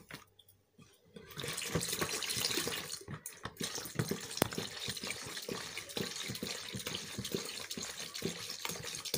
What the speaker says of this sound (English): At this stage, I'm going to add water.